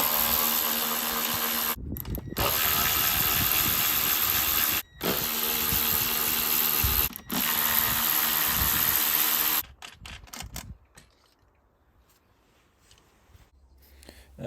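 A ratchet wrench works on the throttle plate of a VW Polo 1.4, loud and up close. Long runs of rapid clicking are broken by short pauses, then the sound stops and near silence follows.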